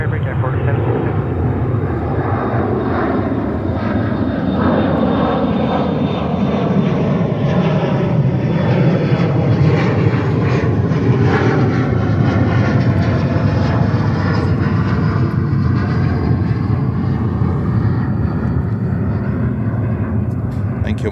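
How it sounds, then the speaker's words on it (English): An Emirates Airbus A380 jet roars on runway 13 Left at JFK Airport, a loud continuous engine rumble that swells slightly mid-way, with people talking over it. "Emirates 380 on 13 left."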